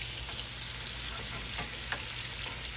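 Hamburger steaks fry in a pan for smothered steaks, a dense steady sizzle with faint scraping and a few soft turning knocks, close and continuous throughout.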